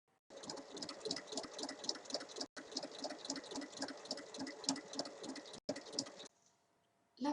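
Close up, a sewing machine stitches 1 mm around a zipped pocket on a tote bag panel, a fast steady mechanical whir that pauses twice briefly and stops near the end.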